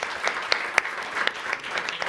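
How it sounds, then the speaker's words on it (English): A round of applause for students and staff at a young chef award event: brief, brisk crowd clapping with a few crisp individual claps popping out, no speech. "Maybe a round of applause for them."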